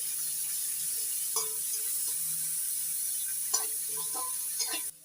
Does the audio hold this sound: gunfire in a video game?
no